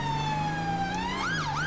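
A police car siren wails steadily, then sweeps up and down near the end, loud and close with road noise beneath and no talk.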